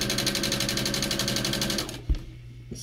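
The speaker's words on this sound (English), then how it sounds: "I'm going to sew down this line" A sewing machine runs steadily as quilt pieces are stitched, its rapid needle rhythm loud and close for about two seconds before it stops, leaving a soft thump and quiet room tone.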